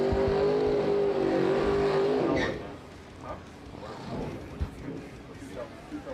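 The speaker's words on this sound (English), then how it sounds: "Jason Lynch driving Bob Jones's old Chevy 2" An old Chevy II race car drives past at a racing event, its engine roaring close at a steady pitch for about two seconds before dropping away into distant track and crowd noise.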